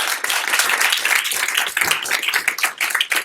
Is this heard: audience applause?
yes